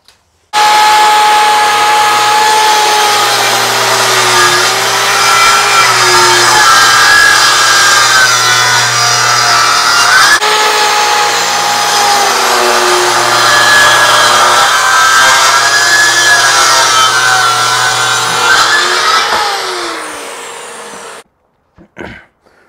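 A power saw cuts through a wooden board for a giant Lite Brite build, trimming it to final dimension; a loud, steady whining buzz runs for about twenty seconds with a brief dip midway, then winds down and stops.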